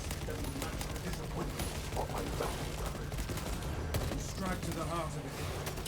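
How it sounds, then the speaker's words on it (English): Rapid heavy bolt rifle fire in Space Marine 2 crackles in dense bursts amid constant battle noise, loud and sustained throughout. "I am using the heavy bolt rifle for that increased range and a little bit more damage as well"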